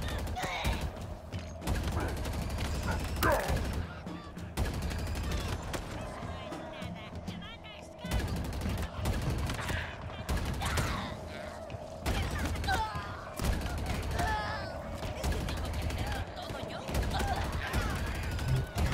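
Rapid bursts of Halo Infinite gunfire crackle repeatedly, mixed with mechanical clicks and a constant low hum.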